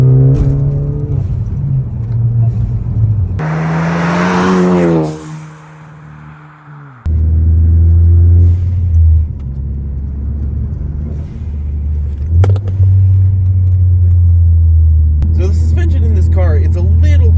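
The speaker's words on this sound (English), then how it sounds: "Power comes to you from a 4-cylinder, 2-liter EcoBoost engine which sends power to the front wheels." A Ford Focus ST front-wheel-drive hatchback with a four-cylinder 2-liter EcoBoost engine is driving. Its loud, steady engine drone and road rumble rise and fall beneath a person talking throughout.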